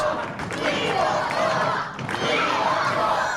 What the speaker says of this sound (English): The crowd in fine voice tonight.